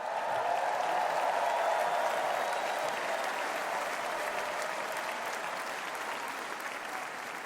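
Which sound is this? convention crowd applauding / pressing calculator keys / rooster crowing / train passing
convention crowd applauding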